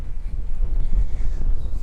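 Strong wind buffets the microphone on a golf course, a low continuous rumble with gusty swells and no talking.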